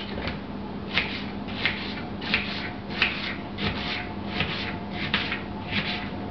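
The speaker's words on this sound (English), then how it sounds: "Here's the onion, we're washing it off, and now we're going to dice it." Knife chopping an onion on a cutting board, a series of about ten crisp, fairly even taps spaced under a second apart, close by with a light rustle between strokes.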